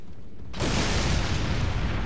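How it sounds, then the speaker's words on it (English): A huge explosion in the video game Elden Ring bursts in suddenly after a quieter rumble, then rolls on as a loud, broad, sustained roar that holds steady to the end with no talk. "Jeez, that's a big explosion."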